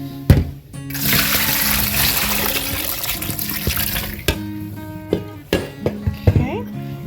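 Freshly picked mulberries being rinsed and strained, with running and splashing water filling the first few seconds, then sharper clinks and sloshes of the berries and bowl as the water is poured off.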